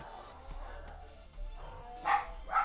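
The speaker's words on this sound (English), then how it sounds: "oh good, the dogs are gonna bark" Dogs barking: a couple of short, mid-pitched woofs near the end, each a quick double burst, over faint background murmur and low rumble.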